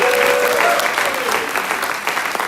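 Audience applause at a college concert band performance breaks out for graduating sophomores, a dense, loud burst of clapping from a crowd sustained throughout.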